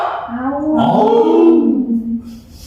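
Children imitate a tiger's roar in a classroom, a single drawn-out, wavering vocal roar rising and then fading over a couple of seconds, close and fairly loud.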